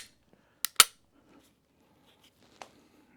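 Dry-fired Glock 19 Gen 5 pistol trigger: two sharp, crisp clicks in quick succession, then a single fainter click a couple of seconds later, in a quiet room.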